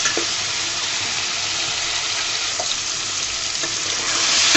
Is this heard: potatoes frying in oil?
yes